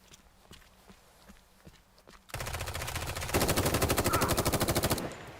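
Gunfire in the survival MMO shooter The Day Before: loud, rapid automatic bursts with a steady rhythm lasting several seconds, following quieter footsteps and scattered shots.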